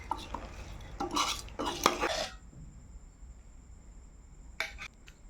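Mutton pieces, masala and rice being mixed together in a pot, a couple of seconds of close scraping and clanking stirring, then near quiet before one more brief clink.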